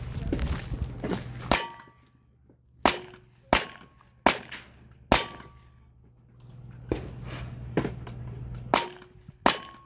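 Pistol gunshots on a cowboy action shooting stage, a series of about eight loud, sharp cracks spaced irregularly with ringing clangs of steel targets, over a low steady hum.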